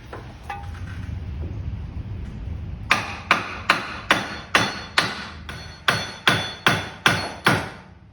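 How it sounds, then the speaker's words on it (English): Ten loud, evenly spaced hammer blows ring out against metal, knocking down a wheel carrier with a hammer and block on a Porsche 986, following a few seconds of low background rumble. "let me see if I can get this wheel carrier knocked down with a hammer and a block"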